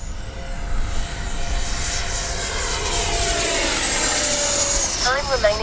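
Freewing 90mm J-10 radio-controlled jet at full speed into the wind, a loud continuous high whine and rushing roar that shifts in pitch as it passes, steady throughout.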